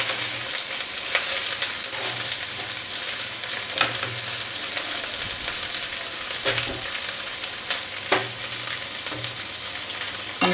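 Chopped onions fry steadily in a hot pan, a dense continuous sizzle broken by a few sharp clicks of a spoon stirring, close and fairly loud with no voices.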